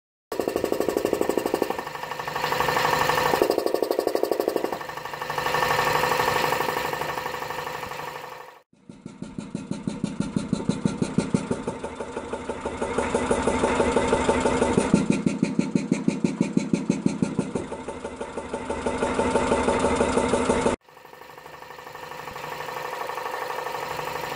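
An air compressor runs inside a silencing bucket, giving a loud, steady, rapidly pulsing mechanical drone that holds throughout with brief shifts in tone and no talking.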